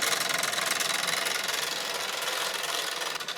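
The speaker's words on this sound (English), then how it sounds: "The engine is running again." A small Mamod model steam engine runs with a rapid, steady chuffing and mechanical rattle, close and fairly loud, continuing without pause and with no speech.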